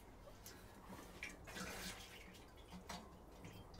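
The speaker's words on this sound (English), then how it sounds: "Now I will give that a good drop of water." Water pours gently onto seed cells filled with compacted sowing mix, a soft, quiet trickle and splash from a watering can with faint drips.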